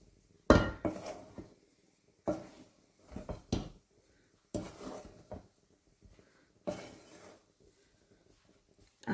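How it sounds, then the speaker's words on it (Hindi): A spoon scrapes and knocks against a pan over and over while dry roasted semolina is stirred. The bursts come in irregular, close clatters with quiet gaps between them. "आपने देखा होगा पैन से बिल्कुल ये हट रहे हैं, अब चिपकना इन्होंने छोड़ दिया है।"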